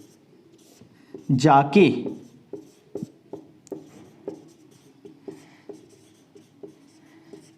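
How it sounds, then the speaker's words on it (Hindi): Handwriting an example, with a series of short scratchy strokes and taps of a pen on a writing surface, heard close up after someone briefly speaks. "एक उदाहरण मैं यहाँ लिख रहा हूँ"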